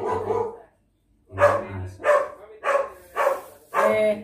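A dog barks nearby in a series of about six loud, evenly spaced barks, with a short pause after the first before the rest follow in quick rhythm.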